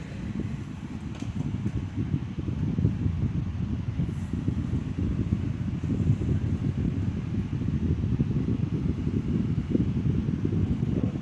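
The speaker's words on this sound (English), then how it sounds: "Speed 2 seems to have kind of an increase, and it's still quiet." A Midea Breeze'n 16-inch oscillating stand fan, model FS40, runs on speed 2, producing a steady, soft low whooshing drone of moving air that stays even and fairly quiet with no talk.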